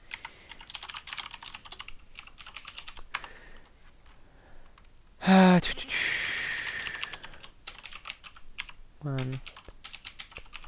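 Rapid bursts of typing on a computer keyboard while entering code, close and clear, with pauses between runs of keystrokes; someone talks over parts of it.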